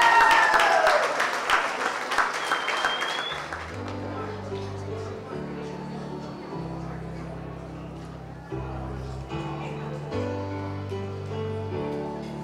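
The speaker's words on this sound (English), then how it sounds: "Ladies and gentlemen, let's give them a round of applause." Loud crowd applause and cheering fill a wedding reception for the first few seconds, then die away as steady music takes over.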